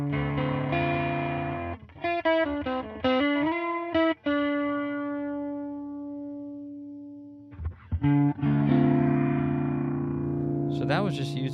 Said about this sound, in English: here's my clean tone on the Princeton reverb